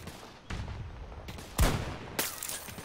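Sniper rifle fire in Battlefield 2042 sounds as four separate loud cracks spread over a few seconds, each one followed by a booming tail, over a low ambient rumble.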